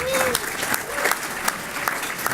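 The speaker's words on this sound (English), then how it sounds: "Largest applause." Audience at a panel discussion on Illinois school funding clapping steadily at close range, a dense wash of applause with faint voices underneath.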